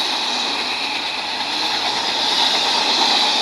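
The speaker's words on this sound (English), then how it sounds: "I've never seen a train with the heritage unit." A train hauling a heritage-painted locomotive passes close by in a steady loud roar with hissing wheel and rail noise, unbroken throughout.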